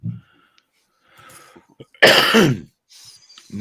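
A single loud, harsh cough close by, surrounded by quieter rustling and faint background sounds.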